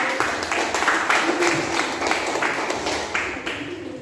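Classroom applause after a student group presentation, a dense burst of clapping from students that swells in waves and stays loud and close.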